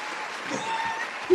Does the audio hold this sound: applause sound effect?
yes